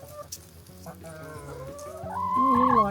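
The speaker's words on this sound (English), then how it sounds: "Chooks are all around us here." Chickens cluck and murmur nearby, with a rising, drawn-out call near the end over a soft outdoor background.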